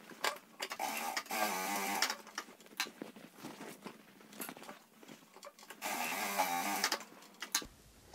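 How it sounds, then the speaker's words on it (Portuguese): A sewing machine stitches a seam on a fabric bag in several fast, rattling bursts with brief pauses and short back-and-forth reverse stitches, close and clear with no talking. "Vamos passar uma costura bem em cima do risco. Com retrocesso bem feito aqui no início e no final."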